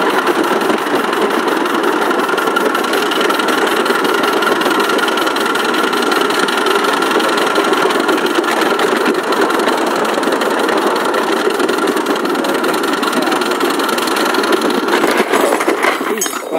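Big Baldrick's engine runs steadily as it is driven, a constant loud mid-toned drone with a faint knocking texture that holds throughout, ending with a brief change near the end.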